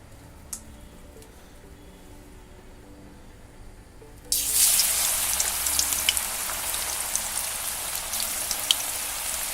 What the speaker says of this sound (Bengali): এখন দেব এর মধ্যে আপনার করলাগুলো